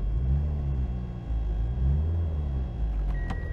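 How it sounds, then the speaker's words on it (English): A tuned car with an aggressive, loud setup idles steadily, its deep engine rumble throbbing close by and alone, with a brief higher whine near the end. "have a look at the car running"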